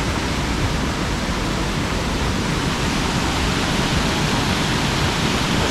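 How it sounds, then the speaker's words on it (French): A waterfall cascading in Laos, steady dense rushing water heard up close, loud and unbroken throughout with no voices. "On voit des cascades."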